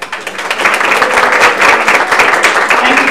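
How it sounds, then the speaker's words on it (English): A short burst of applause at a chamber of commerce meeting, dense clapping from a room of people held at a steady loud level for about three seconds. "I'd like to give Francis a round of applause"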